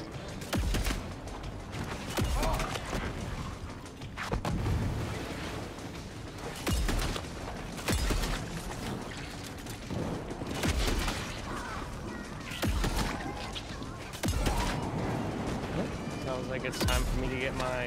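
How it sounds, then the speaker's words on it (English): A shotgun blasts repeatedly in the action game Shadow Warrior 3, heavy booming shots every second or two amid dense combat noise and explosions, with someone talking over the gunfire. "Oh yeah, it's pretty much a shotgun."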